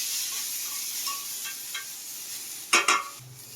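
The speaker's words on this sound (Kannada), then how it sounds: "ಈಗ ಅದೇ ಪ್ಯಾನ್ಗೆ 1 ಟೊಮೆಟೊ ಹಾಕ್ತಾ ಇದ್ದಾಳೆ. ಅದು ಚೆನ್ನಾಗಿ ಫ್ರೈ ಮಾಡಬೇಕು." Tomato frying in a pan gives a steady close sizzle and hiss, broken near the end by a couple of brief clinks and stirring knocks.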